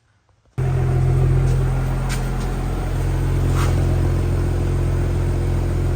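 BMW F30 335i with its exhaust resonator deleted starts up abruptly after near silence, then settles into a loud, steady, deep idle rumble.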